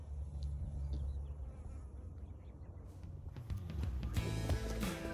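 A dense, continuous buzzing drone of a honeybee colony close by, swelling louder toward the end with a higher, brighter hum.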